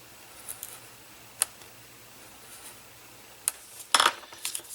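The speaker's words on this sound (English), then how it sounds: "then just cut a slit in there." Scissors cut a slit in a paper tag during a stamping craft, giving a few sharp, close snips and clicks spaced out over quiet, ending in a brief cluster of crisp cuts.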